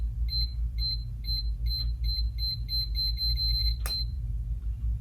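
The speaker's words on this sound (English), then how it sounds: "as it gets closer to starting, the beeps will get shorter and shorter." A GermAwayUV 60 watt tabletop 254 nm UV sanitizer emits a countdown of high, clear beeps that come closer together, ending in a sharp click over a low steady hum.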